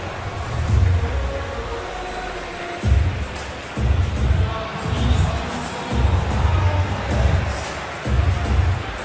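A capacity stadium crowd at a night match in the eFootball video game roars in loud, swelling waves that rise and fall every second or so, with no one talking.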